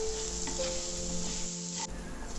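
Drumstick leaves being stirred in a pan with coconut oil for a Kerala thoran, a steady close sizzle with scraping spoon strokes against the pan, no talking.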